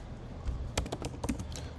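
Someone types SQL on a computer keyboard, a short run of quick, close clicking keystrokes in an uneven rhythm over a quiet room.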